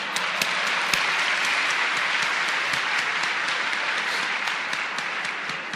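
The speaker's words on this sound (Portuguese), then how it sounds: "eu estou aplaudindo o mentiroso" Theatre audience at the Teatro Nacional applauding steadily, a dense, sustained wash of many hands clapping for several seconds with no break, loud and close.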